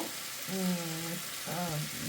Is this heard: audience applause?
no